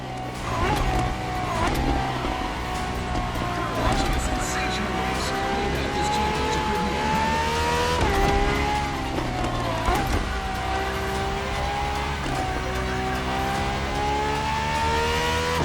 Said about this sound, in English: There, for this second lap, you'll be driving the FXXK.